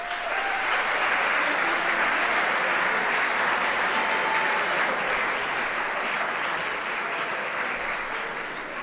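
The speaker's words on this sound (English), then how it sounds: "please recognize them collectively by giving them a round of applause." An awards ceremony audience applauds the department's coaches, sustained, dense clapping from a large crowd that holds steady before tapering slightly at the end.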